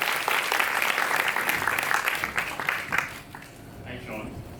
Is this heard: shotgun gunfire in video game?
no